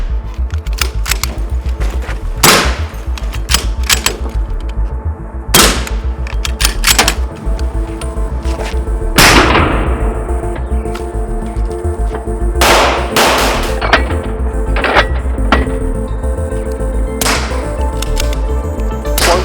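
Compact precision rifle firing: a series of sharp, loud, close gunshots spaced a few seconds apart, each with a quick decaying echo, with no talking between them.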